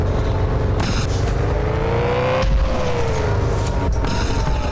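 A red sports car in a stunt-ramp racing video game accelerates hard, its engine revving and rising in pitch, easing and then climbing again, loud and close, with whooshing bursts.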